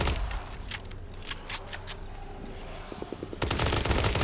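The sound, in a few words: Blood Reaver weapon firing in a video game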